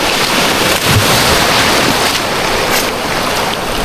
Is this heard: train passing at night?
no